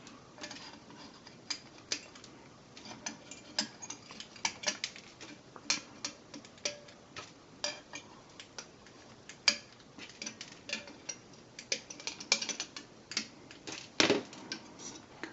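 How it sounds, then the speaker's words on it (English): Side cutters snipping excess component leads on an electronics kit, a run of sharp close clicks and snaps in uneven rhythm with quiet gaps, one louder snap near the end. "you just take your side cutters and trim your excess off"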